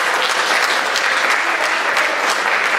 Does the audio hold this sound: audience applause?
yes